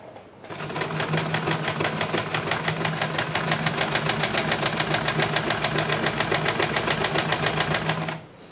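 A sewing machine stitches a buttonhole in fabric, running at a fast, steady rhythm for about eight seconds. It sounds loud and close, with no talking over it.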